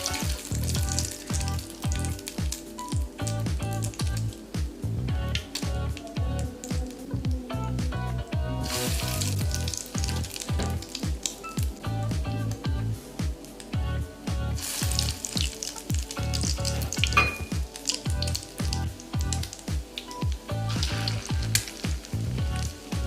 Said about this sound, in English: dip in the beaten egg and fry until golden brown